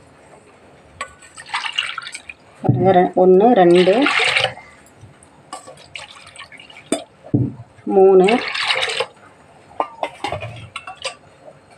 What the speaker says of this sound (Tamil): இந்த பாத்திரத்தில் நான் 4 பாத்திரம் தண்ணி ஊற்றுறேன்.